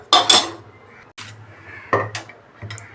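Dishes and metal utensils clatter and clink as they are scrubbed, in a few sharp, loud bursts separated by quieter pauses.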